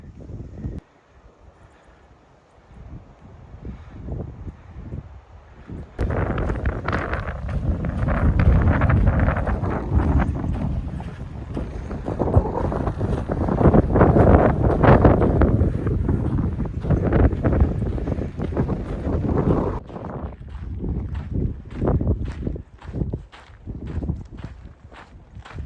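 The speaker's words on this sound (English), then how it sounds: "So the wind's blowing." Wind gusts roar across a snowy mountain trail, buffeting the microphone in a loud, sustained rush for most of the clip, with quieter stretches at the start and end and possible footsteps underneath.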